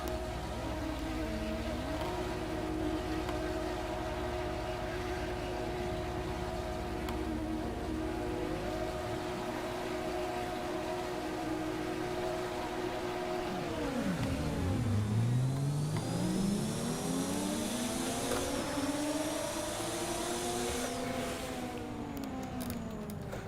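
A Nissan R31 Skyline Group A race car in a Bathurst racing game launches off the start, its engine revving hard, dropping and climbing again as it accelerates, with other cars' engines droning alongside.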